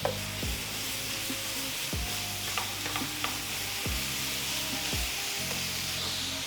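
Sliced ribeye searing in a very hot skillet, a steady sizzle with a few light scraping sounds, while low tonal swells with falling sweeps recur under it about every one and a half seconds.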